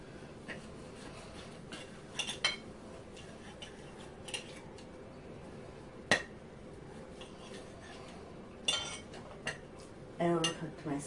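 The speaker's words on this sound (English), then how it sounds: "I really hate the sound of silverware scratching on plate." Silverware scrapes and clinks on a plate in short, scattered bursts, loudest around the middle and near the end, over a quiet background.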